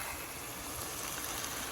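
Water poured into a cooking pot, a short steady rushing splash with an even hiss throughout, close and moderately loud, no voices.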